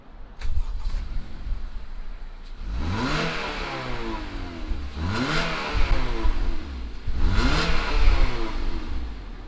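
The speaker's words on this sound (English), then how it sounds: "let's go ahead, fire up this ILX and see what it sounds like." A 2020 Acura ILX A-Spec engine fires up and then revs three times, each rev climbing and falling in a loud rising whine over a steady idle.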